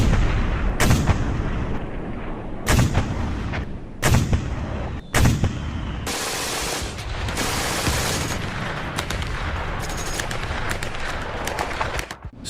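Battle sound effect set in 1945 Berlin: heavy artillery booms and bursts of gunfire, several sharp loud blasts in the first half followed by sustained rattling fire, dense and close.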